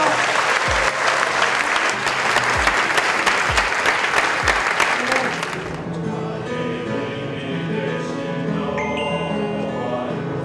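Congregation applause in a military church after a baptism of special forces trainees, dense clapping with a few low thumps for about six seconds, then giving way to music.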